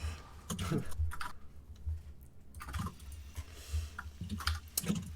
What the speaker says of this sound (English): So you hear Vindicta keyboards behind